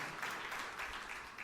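A church congregation applauds during a sermon, steady, dense clapping across the whole moment at moderate level with no voices over it.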